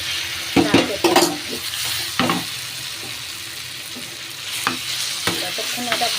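Taro paste fries in a pan as it is stirred, with a continuous sizzle and periodic scraping and knocking strokes of a spoon against the pan, close and unaccompanied by speech.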